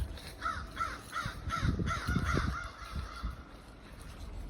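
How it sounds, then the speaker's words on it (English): A series of crows cawing nearby in a forest clearing, about eight harsh repeated calls in a steady rhythm, with some low rustling beneath. "Crows don't like what I'm doing."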